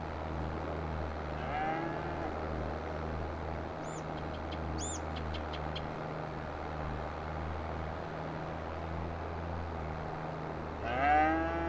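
Cows in the video game Farming Simulator 22 moo with low, drawn-out calls that repeat steadily, with faint bird chirps in the background and no talking.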